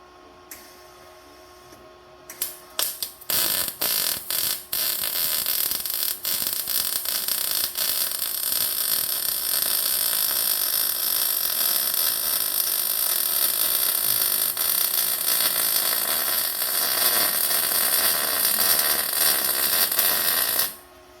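Welding a custom exhaust on a single-cab truck: after a few short crackling starts, a continuous loud buzzing, sizzling arc runs steadily for about sixteen seconds, then cuts off abruptly.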